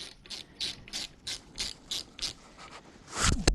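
A ratchet with a Torx bit clicks rapidly as it backs screws off the horn of a 2008 Harley-Davidson Sportster 883C, about a dozen close, crisp ratcheting clicks in a quick steady rhythm, ending in a louder rattle.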